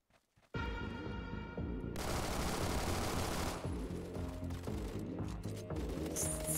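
Sustained machine gun bursts mixed with heavier sniper shots in the Roblox shooter Phantom Forces, loud and dense nearly throughout after a brief quiet opening, with rapid overlapping fire and a few distinct louder cracks.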